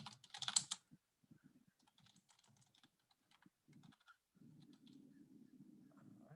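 Keys tapped in short irregular bursts on a TI-30 calculator or keyboard, close and quiet, with soft pauses between presses.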